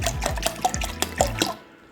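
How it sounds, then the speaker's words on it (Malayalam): Cold water poured from a glass into curd to make spiced buttermilk, a gushing liquid pour with splashy bursts for under two seconds, close and moderately quiet, ending abruptly. "പിന്നെ മൂന്ന് ഗ്ലാസ് വെള്ളം കൂടി ഒഴിക്കുന്നുണ്ട് നല്ല തണുത്ത വെള്ളം തന്നെ നോക്കി ഒഴിക്കുക"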